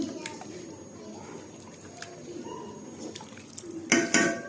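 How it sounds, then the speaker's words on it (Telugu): Rice being stirred in a pot for bagara rice, with quiet scraping and clinks of a utensil against metal, ending in a louder burst of clattering near the end; soft background noise throughout. "బియ్యం వేసుకున్న తర్వాత కలదిప్పేయండి మొత్తం"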